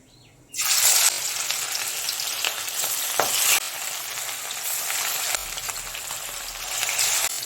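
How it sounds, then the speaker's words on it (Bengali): Rohu fish pieces dropped into smoking-hot oil in a wok burst into a loud, close sizzle after a brief silence, then keep frying with a steady hiss and occasional crackle. "এবার মাছগুলোকে ভেজে নেব"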